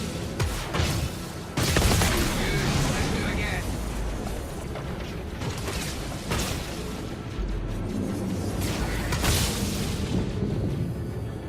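Size 2 cannons on an Anvil Hawk fighter in Star Citizen fire in repeated heavy booming bursts over a constant engine roar, with someone talking throughout.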